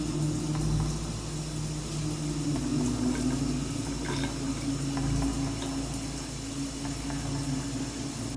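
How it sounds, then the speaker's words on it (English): A shower runs steadily in a room, with a constant hiss and patter of falling water close by and no breaks. "So, I intentionally turned on my shower and let it run."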